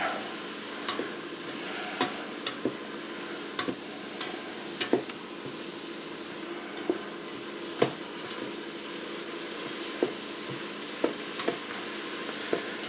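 Beef tips browning in a hot pan for beef tips and gravy, a steady sizzle with scattered sharp clicks of a utensil stirring, close and without talk.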